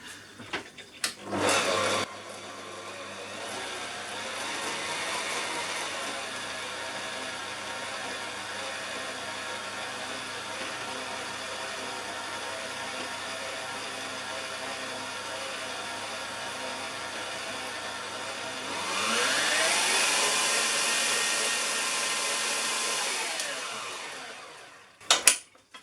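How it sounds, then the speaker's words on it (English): An electric mixer beating steam pudding batter with vanilla, a steady motor whir running continuously for over twenty seconds, rising in pitch and loudness near the end before clicking off. "So I'm just going to mix this until it's all combined"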